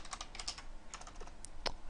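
Rapid, uneven keystrokes clatter on a computer keyboard nearby, a short burst of typing with small pauses and no talking.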